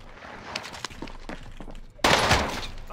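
Gunfire rings out in the online shooter video game The Cycle: a scatter of rapid distant shots, then a loud close burst of fire with crackling impacts.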